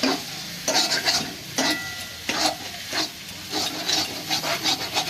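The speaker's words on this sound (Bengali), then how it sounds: "এবার এগুলোকে বেশ ভালোভাবে নেড়ে ছেড়ে গন্ধটাকে মেলে নেবো" Spoon stirring and scraping a cabbage mixture seasoned with chaat masala and a little sugar in a pan, in repeated rubbing strokes with a faint sizzle underneath, close and steady.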